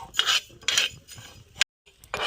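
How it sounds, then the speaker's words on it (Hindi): Whole coriander seeds dry-roasting on a tava griddle for pani puri spices, stirred in bursts of close scraping and rattling, with a brief silent gap before the stirring resumes. "आप लोग देख रहे हैं कि इस तरह से हम धनिया को भूंज रहे हैं"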